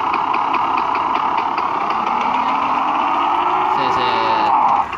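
A Vespa scooter engine in the Gangstar Vegas mobile game hums steadily at idle with a rising whine near the end, fairly loud and close, under game audio with speech-like sound.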